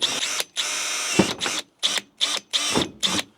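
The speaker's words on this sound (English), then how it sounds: "Now we got to drill holes in this piece here." A power drill whirs in a series of short bursts, drilling holes in a heavy-duty metal dash mount for an F150, starting and stopping repeatedly with brief pauses between each close, buzzing run.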